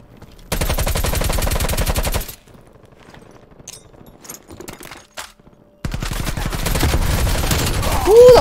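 Bursts of rapid automatic gunfire from Call of Duty: Black Ops multiplayer, a dense loud volley, then a lull with scattered distant shots and clatter, then another sustained heavy burst of fire; no talking.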